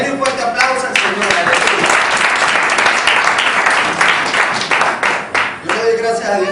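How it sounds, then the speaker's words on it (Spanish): Strong, close congregation applause during a church service, dense clapping that swells and holds, with voices shouting and talking over it toward the end. "Denle un fuerte aplauso al Señor."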